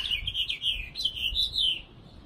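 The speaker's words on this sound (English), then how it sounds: "You hear that bird?" A small bird outdoors chirps and twitters in a continuous high, warbling run of quick notes, clear and fairly close, with a low background rumble underneath.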